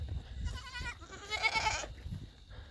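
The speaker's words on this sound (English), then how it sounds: "Hey, mama goat." A mother goat bleats outdoors at night, two quavering calls at moderate distance, the second louder, over low rustling background noise.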